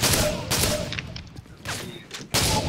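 Gunfire in Call of Duty MW3 Survival Mode, several loud bursts of shots spaced across a few seconds with quieter game sounds between them.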